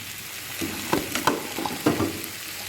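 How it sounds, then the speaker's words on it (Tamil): Fried chicken pieces are tossed into a pan of masala sauce for chilli chicken, bringing a steady close sizzle with a few soft thuds and scraping stirs over about three seconds. "இப்போ நம்ம சிக்கனை இதில் போட்டுருவோம்."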